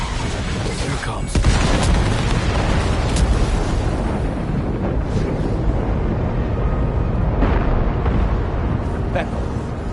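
Loud gunfire and explosions in the video game Death Stranding 2, heavy booming blasts and sharp cracks over a dense rumbling din that stays intense for the whole stretch.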